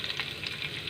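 Chopped garlic sizzling in hot oil in a pan while cooking a sauce for blue marlin steak, a dense, steady crackling fry heard up close with no voices.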